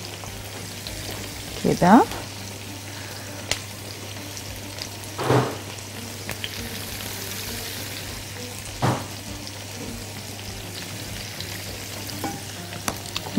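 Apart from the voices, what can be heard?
chicken frying in plenty of oil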